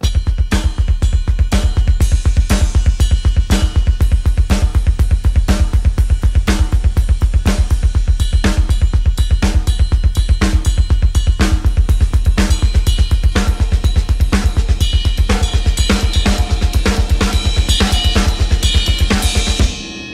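A full drum kit with two bass drums plays a steady loud groove with a driving double bass drum pattern, quarter notes, snare backbeats and continuous cymbal wash, ending with a final hit.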